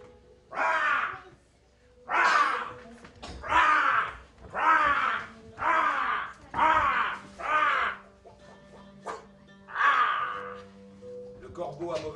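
A crow caws over and over, about eight harsh, evenly spaced calls at moderate distance in a quiet outdoor setting.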